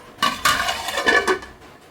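A lid goes onto a pot of fish curry, making two quick metallic clanks followed by a short rattle and a final clink as it settles, close and clear in an otherwise quiet kitchen.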